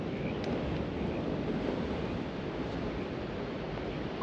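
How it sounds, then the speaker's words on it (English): Wind rushes loudly and steadily across the microphone during a hang glider flight in a west wind, a continuous close roar with no voices. "that's like a west wind, I think"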